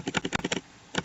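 Computer keyboard typing: a quick burst of about six close keystrokes, a short pause, then two more taps ending on a press of the enter key.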